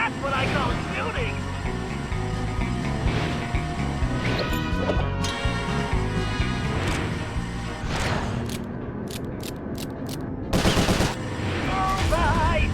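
Gunshots ring out in Sly Cooper: Thieves in Time, a few sharp cracks breaking through a dense bed of game music and effects, with a loud burst near the end.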